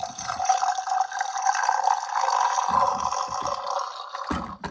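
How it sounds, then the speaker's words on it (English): A battery-powered toy juicer from an American Girl kitchen set plays a recorded pouring-liquid effect: a steady electronic gurgling flow with faint mechanical clicks at start and end. "And it makes it sound like it's pouring liquid"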